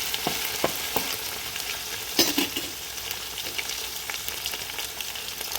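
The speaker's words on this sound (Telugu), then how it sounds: "దీనివల్ల ఆనియన్స్ వేగిపోతే ఇటు అల్లం వెల్లుల్లి పేస్ట్ వేగిపోతుంది, ఆయిల్ తక్కువ పడుతుందండి." Onions and ginger-garlic paste fry in oil for chicken biryani, giving a steady crackling sizzle with occasional spoon scrapes and stirring knocks, close and continuous with no talk.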